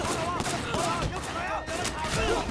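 Enemy gunfire in Sleeping Dogs rattles in quick, steady shots throughout, close and fairly loud, while a voice speaks over it.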